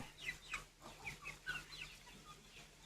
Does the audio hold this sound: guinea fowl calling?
yes